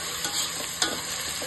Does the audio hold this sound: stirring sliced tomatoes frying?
yes